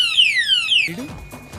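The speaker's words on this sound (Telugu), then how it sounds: "ఇంకా కావాలంటే మనకి ఎవరైనా వచ్చి దీన్ని చేసినప్పుడు ఈ విధంగా అలారం వస్తుంది." Anti-theft alarm lock on a bike sounding: loud, repeated descending electronic siren sweeps, then a shorter burst of chirps.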